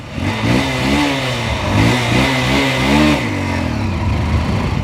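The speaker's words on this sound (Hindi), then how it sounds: "इसका जो साउंड आता है यूनिकॉर्न BS4 का, आपको सुनाता हूँ मैं।" A Honda Unicorn BS4 motorcycle engine revs up and down in several rising and falling pulls, loud and close, with no talk over it.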